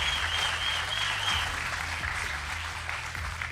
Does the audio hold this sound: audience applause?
yes